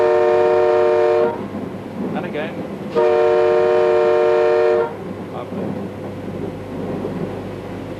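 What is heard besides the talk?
electric locomotive horn blowing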